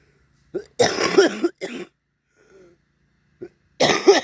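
Several harsh coughs close up, a burst of hacking, a short pause, then another loud cough.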